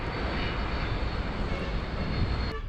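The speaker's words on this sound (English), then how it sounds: "I'll get planes flying right over my head" A propeller airplane passes directly overhead, a loud, steady broadband engine roar that fills the whole stretch and cuts off abruptly near the end.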